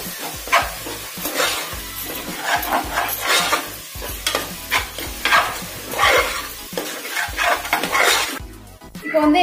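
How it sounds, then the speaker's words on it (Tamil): Onions, green chilies and tomatoes sautéing in a pan for beetroot biryani: steady sizzling with frequent scraping and clinking of a spoon stirring against the pot, close and continuous before the sound cuts off near the end. "சின்னதா ஒரு மூணு பச்சை மிளகாவும் சேர்த்து வதக்கிக்கோங்க."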